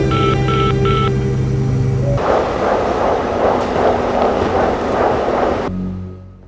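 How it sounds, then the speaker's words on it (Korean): Telephone keypad tones sound three times in quick succession, a short series of dial beeps, before giving way to a loud, steady rushing noise that cuts off abruptly near the end. "제이슨은 그녀의 엄마에게 전화를 걸어 딸을 찾는 것이 더 이상 의미가 없을 거라 이야기합니다."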